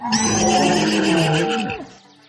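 A single loud, close horse whinny rises and wavers for about a second and a half, then drops away sharply into quiet.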